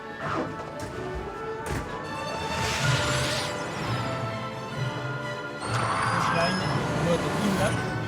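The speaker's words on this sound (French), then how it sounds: "C'est plutôt pas mal de faire les interviews quand une Formule 1 roule" A Formula 1 car drives past nearby, its high-pitched engine wail rising and falling over a few seconds amid general track noise.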